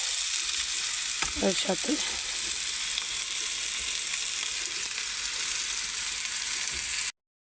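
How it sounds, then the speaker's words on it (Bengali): Chopped onions frying with beetroot in a pan, a steady close hiss of sizzling oil throughout, with a few brief words of speech early on before it cuts off. "পেঁয়াজটাকে এবার একটু ভেজে নেবো"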